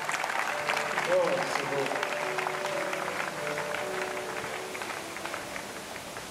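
A crowd at an outdoor church gathering on a parliament esplanade claps and cheers for an apostle, a dense, continuous wash of applause with voices speaking over it.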